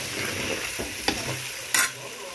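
Spices, red chilli, turmeric and garlic are stirred into chicken in a sizzling pan, a soft continuous fry with two or three scraping spoon strokes close by.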